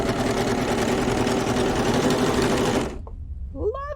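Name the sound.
serger overlock sewing machine running, chaining off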